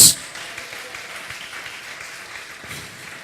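Church congregation clapping together, a dense wash of many hands that starts loud and settles into sustained applause, fading slightly toward the end.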